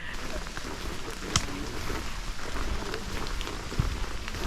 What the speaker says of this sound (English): it is raining, so it's quite wet and it's quite slippery